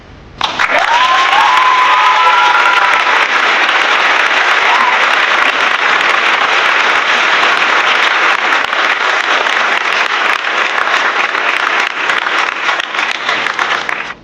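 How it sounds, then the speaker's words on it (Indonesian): Loud, sustained applause from a crowd honoring a pencak silat achievement on a stage, steady clapping filling the whole stretch with a few brief tonal squeaks near the start. "Kita berikan tepuk tangan untuk apresiasinya."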